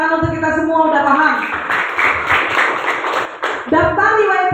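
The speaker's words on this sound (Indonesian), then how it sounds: "tepuk tangan untuk kita semua" A class bursts into clapping for about two seconds, a dense round of applause between stretches of a teacher talking.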